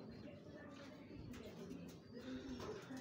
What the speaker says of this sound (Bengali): ওখানে তো উপরে কবুতর আছে, ভিতরে কবুতরের বাচ্চা হয়তো শব্দ করতেছে